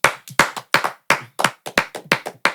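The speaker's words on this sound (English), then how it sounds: "Round of applause, man" A few people clap in a small podcast studio, a dozen sharp, separate claps at an uneven, lively rhythm, close and dry with no talk over them.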